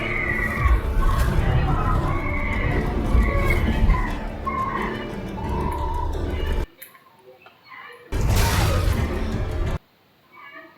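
A frightened horse neighs amid a dramatic TV battle scene, a drawn-out, wavering whinny riding over loud score and commotion, with voices talking; brief quiet gaps break the noise.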